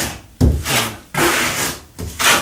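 A trowel spreads a quick plaster skim coat over a wall corner, giving three scraping strokes in close succession, near and alone.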